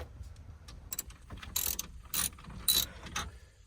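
A ratchet clicks out the 7mm screws holding the radio in a Ford F-150 dash. Brisk bursts of quiet ratcheting are separated by short pauses, close up and with no talking.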